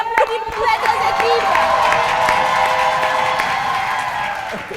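A studio audience at a game show claps and cheers for two competing teams, a sustained loud roar of applause with whoops and excited shouting, dense and continuous.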